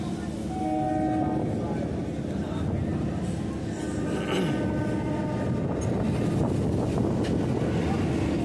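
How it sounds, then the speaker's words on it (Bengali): A Sealdah up local commuter train approaching a station with a continuous loud rumble, wind buffeting and drawn-out horn tones, faint voices in the background. "সামনে থেকে আসছে শিয়ালদা আপ লোকাল।"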